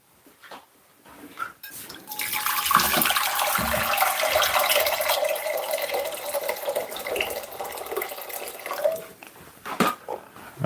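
Water runs from a tap in a kitchen, starting after a couple of seconds and pouring steadily with a bright splashing hiss before cutting off near the end amid a few handling knocks.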